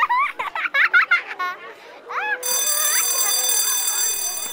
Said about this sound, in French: Oh, la sonnerie!